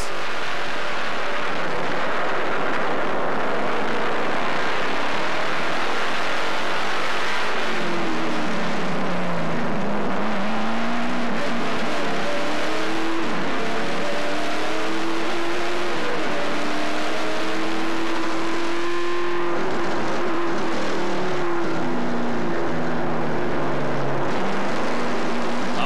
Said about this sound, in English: And Wilkins, giving you an idea of what these drivers are listening to all race long inside of those NASCAR Canadian Tire Series race cars